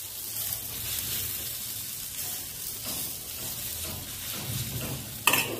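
Oats dosa batter spread across an oiled nonstick pan gives a steady, soft sizzle throughout, with faint scraping as it is smoothed and a brief sharper clatter near the end.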